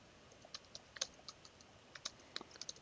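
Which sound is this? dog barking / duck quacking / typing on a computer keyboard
typing on a computer keyboard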